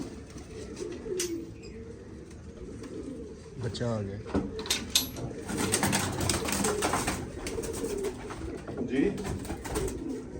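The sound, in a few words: pigeons cooing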